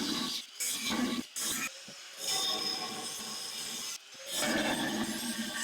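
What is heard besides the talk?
grinder cutting metal, powered by portable power station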